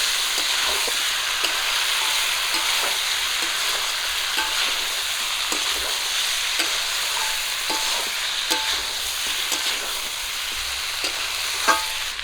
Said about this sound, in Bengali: মাছটা দেওয়ার পর একটু ভেজে নেব